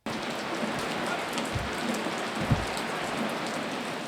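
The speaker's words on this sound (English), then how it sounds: "The floodgates slowly but surely opened, sending a downpour of rain for more than an hour" Heavy rain pours down steadily late at night in Florida, a dense constant hiss of drops with a few low thumps, close and loud throughout.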